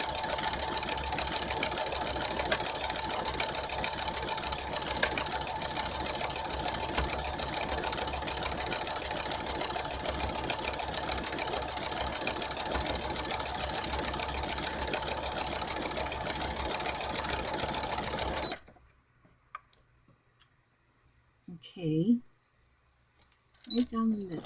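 A sewing machine stitching fabric scraps, a fast steady mechanical whir running continuously for most of the stretch before stopping, followed by a few faint handling sounds.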